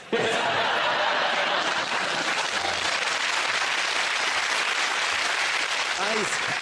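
Sustained applause from a TV studio audience, loud and continuous, with some laughter mixed in and a few voices breaking through near the end.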